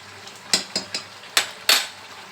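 Chicken malai curry with kasuri methi being stirred in a pot, five or six sharp spoon scrapes and knocks against the metal over a faint bubbling, close and loud, without talk.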